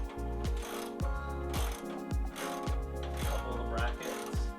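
A ratchet clicks as it loosens a 19 mm track bar bolt on a 5th-gen Toyota 4Runner, close rhythmic pawl clicking in repeated strokes of roughly half a second each, with no talk.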